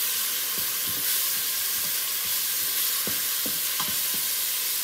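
Tomato and vegetables for a memon-style beef yakhni pulao fry in a pot with a constant loud hissing sizzle, broken by soft, irregular knocks and scrapes as a spoon stirs them close at hand.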